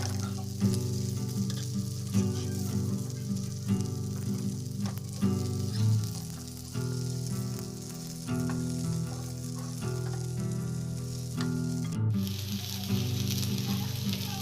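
Carrot and banana cutlets fry in a pan with a loud, continuous sizzle and occasional crackles, while tonal music plays underneath.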